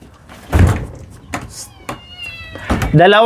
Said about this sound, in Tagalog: Pusa ko, pusa, alaga ko.